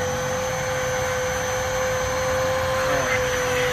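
A vacuum cleaner runs at a car wash, a steady loud whine with a constant tonal hum held throughout, close by with no talk over it.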